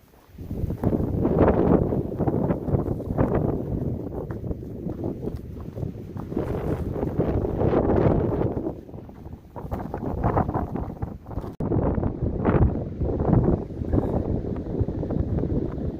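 Steady, loud wind buffeting the microphone outdoors on the Pacific Crest Trail in Oregon, a continuous rushing roar with gusty swells throughout.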